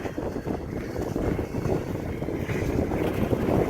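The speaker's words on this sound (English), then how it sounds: "I got Jack out riding the snowmobile" A snowmobile ridden outdoors during a February blizzard, its engine a rough, steady drone blended with gusting wind noise buffeting the microphone, moderately loud and continuous.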